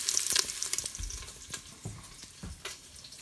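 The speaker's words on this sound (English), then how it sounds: "I'm not gonna brown it as much as I would any other regular recipe" Food browning in the pot of an Instant Pot for black-eyed peas, a light steady sizzle with soft stirring clatter and a few scrapes, close and fairly quiet.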